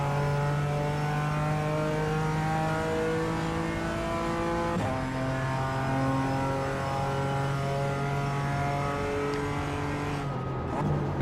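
A sim race car engine from iRacing's BMW M Power Tour drones loudly at high revs, holding a steady pitch before a sharp drop and climb as it downshifts, then cuts near the end.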